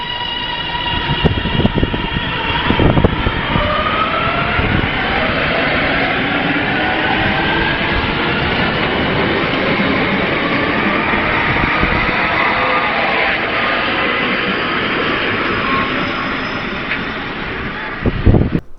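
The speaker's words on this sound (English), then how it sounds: "here's what a brush traction motor sounds like" A Networker multiple-unit train with brush traction motors, a sustained loud whining hum with rising tonal lines as it accelerates, mixed with rumble and wind buffeting over nearly twenty seconds, no voices.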